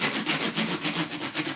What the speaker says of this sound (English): If I go like this with fine grit sandpaper, this is 1200 grit, I'm sanding the top off there